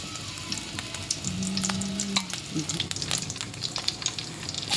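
Ginger garlic paste fries in a generous amount of hot oil for mutton keema, a steady close sizzle with small crackles and a brief stirring scrape partway through.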